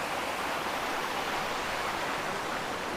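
Busay Falls waterfall in Maticdum, Tandag City, Surigao del Sur, Philippines, a loud, steady, close roar of rushing water with no talk.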